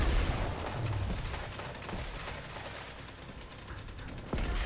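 Video game gunfire in Destiny's Iron Banner mode crackles in rapid bursts, a dense stream of shots at moderate level, with a heavier thump near the end.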